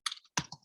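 A few quick clicks of computer keyboard keys, two short close bursts of tapping while a caption is typed, sharp and isolated with silence between them.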